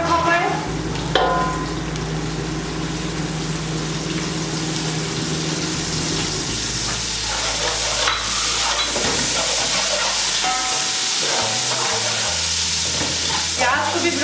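Onions fry in hot oil over a full flame while cooking Chinese rice with chicken Manchurian, a loud, steady sizzle lasting throughout, with a low hum and occasional stirring scrapes.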